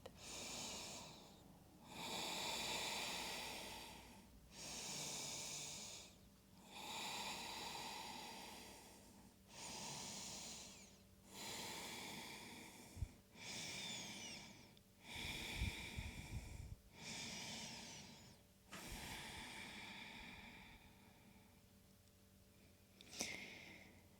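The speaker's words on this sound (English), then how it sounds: "Here for another 5 deep breaths" Slow, deep breaths during a full-body yoga flow, about eight long airy inhale-exhale cycles with brief pauses between them, close and soft, with no talking.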